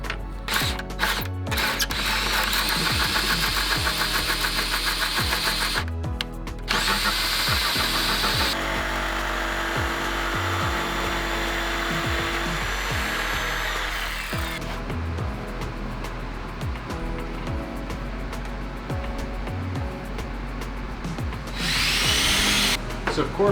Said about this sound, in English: I'll eventually come back and cut this line with a jigsaw